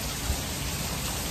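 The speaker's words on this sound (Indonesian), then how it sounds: "Kau tengok hujan lebat." Heavy rain falling outdoors, a steady dense hiss of downpour that stays even throughout with no distinct drops or talk, moderately loud and close.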